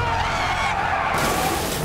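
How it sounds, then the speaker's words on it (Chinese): A car drifts and skids in a dramatic crash scene before rolling over. A brief, loud burst of tyre-skid noise and engine sound carries through the whole short moment, with no one talking. "对方一个漂移甩尾，导致汽车直接翻滚了起来"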